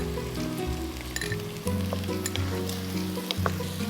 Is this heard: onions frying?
yes